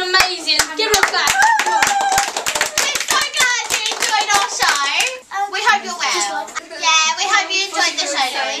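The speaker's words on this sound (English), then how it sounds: "Give her a clap" Hands clap in a quick irregular patter for a young girl performer at a Wizard of Oz Munchkins show in London, mixed with excited children's voices talking and squealing throughout.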